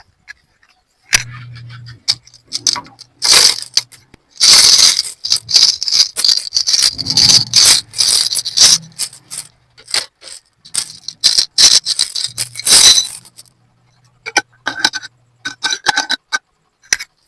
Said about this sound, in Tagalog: bibilangin muna natin itong mga barya-barya na ito na piso-piso